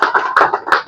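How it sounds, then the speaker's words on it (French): Applause from an audience at a book signing event, a dense burst of overlapping hand claps swelling in several waves over under a second, fairly close and loud. "Je vous prie de l'applaudir, s'il vous plaît."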